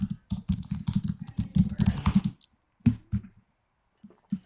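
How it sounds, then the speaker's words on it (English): Computer keyboard typing, a dense run of close, rapid keystrokes for a couple of seconds, then a few scattered, isolated key clicks after a pause. "So Rusty's typing that out. You can hear him."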